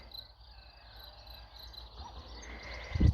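Crickets chirp steadily in the distance, a thin high trill over soft outdoor rumble, with a brief louder thump at the end.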